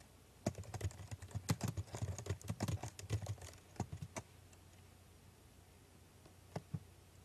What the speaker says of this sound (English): if we click in the text field and type in something